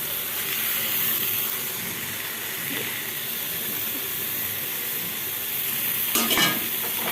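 Breaded chicken pané sautés in a pan with seven-spice seasoning, a steady close sizzle and hiss with a few brief stirring scrapes near the end, and no talk.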